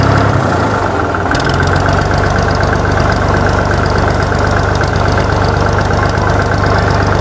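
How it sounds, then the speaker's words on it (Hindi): A tractor engine idles loudly and close, a steady, rough knocking rumble that continues evenly throughout. "लो भाई हम ट्रैक्टर चला रहे"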